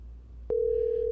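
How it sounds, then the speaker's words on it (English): A telephone ringback tone begins after a short click, a steady mid-pitched beep holding through the rest of the moment over faint background hiss. "Okay, it's ringing."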